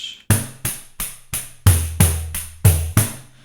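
Pandeiro played in a syncopated samba groove: sharp jingle-laden slaps mixed with deeper open booming tones, close and alone.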